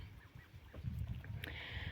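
Ducks in a small farmyard pen with a pond, faint quacking calls scattered over two seconds against low rumbling background noise.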